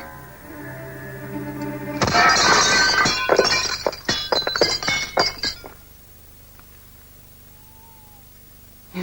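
A glass window smashed to break in, a sudden loud shatter followed by a few seconds of tinkling, clattering shards falling, then quiet with a faint thump at the end.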